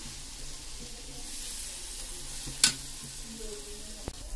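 Spices mixed with a little water frying in a pan for black chickpea curry, a soft continuous sizzle with quiet stirring, one sharp clink of a utensil midway and a faint tap near the end.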